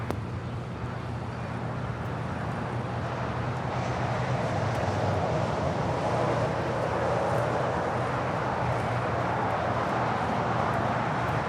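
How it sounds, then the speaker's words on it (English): A Volaris Airbus A320neo airliner coming in to land at LAX makes a continuous broad roar that holds at a constant, moderately distant level throughout. "Yes, that is Volaris 922 coming in from Zacatecas on an A320 Neo."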